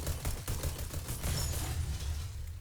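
Rapid bursts of video game gunfire rattle out as a bed is shot, a quick run of sharp repeated shots at moderate level, with no talking.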